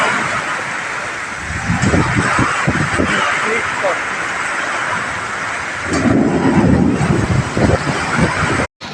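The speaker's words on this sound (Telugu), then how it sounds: "ఈరోజు మా ఇంటి దగ్గర వర్షం పడుతుంది" Heavy rain with hail falling near a house, a steady wash of downpour with low thunder rumbling through and a surge in intensity partway, while people talk faintly in the background.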